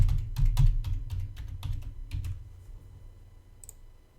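A password is typed on a computer keyboard in a quick run of close, crisp keystrokes, with a few spaced final taps and a faint click near the end, in a quiet room with no talking.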